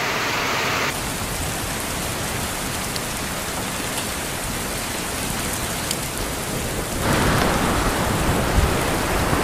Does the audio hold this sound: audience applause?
no